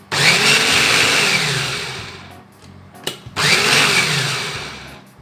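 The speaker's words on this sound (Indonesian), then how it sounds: "Nah, ini aku tambahkan sekitar 100 cc ya. Lalu kita giling kembali." A blender grinds rice with hot water in two loud, close bursts of motor roar, each slowing toward its end, with a short clatter between them. No voices.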